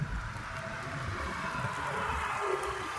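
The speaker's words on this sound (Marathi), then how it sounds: "आवाज येत असेल पावसाचा" Rain falls in a steady, even hiss over a village in Maharashtra, with a low rumble underneath and no voices.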